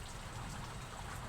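Heavy rain pours steadily during a racing pigeon race in Lopez, Quezon, a dense, constant hiss of falling water with no break and no voices.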